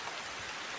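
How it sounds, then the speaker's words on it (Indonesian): Steady rain falls at a garden hut during a thunderstorm, a dense, even hiss of drops on surfaces with no breaks, close and continuous through the short stretch. "Hujan teman-teman."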